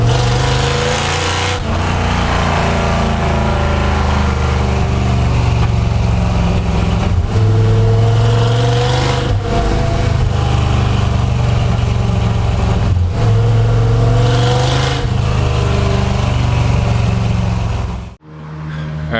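Ford F100 pickup engine running steadily while driving, a loud continuous low drone with slight rises and dips in pitch as the throttle shifts, cutting off briefly near the end.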